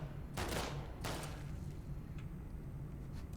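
Gunfire in the video game The Last of Us Part 2, two sharp bursts of shots close together followed by a few faint distant cracks, heard quietly.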